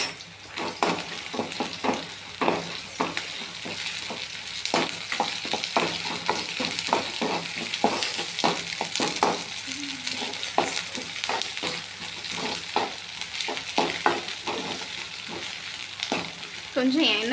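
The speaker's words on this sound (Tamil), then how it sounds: "கொஞ்சம் எண்ணெய் கூட நல்லா இஞ்சி பூண்டு சேர்த்து வதங்கினோடனே" Ginger garlic paste sautéing in oil for a restaurant-style chicken curry, a loud continuous sizzle broken by rapid scraping and clinking of a spoon against the pan, close and busy throughout.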